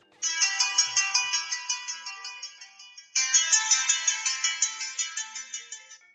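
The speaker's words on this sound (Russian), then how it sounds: "на часах есть не только вибрация, но и рингтон, который играет во время входящего вызова" A Haylou RS5 smartwatch's bright, chiming electronic ringtone for an incoming call plays a looping melody twice, with a brief break between the two rounds.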